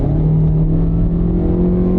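A 2-liter automatic car is floored from 40 mph, its engine giving a steady, loud low drone with a constant hum from inside the cabin, no gear change or rise in pitch over two seconds.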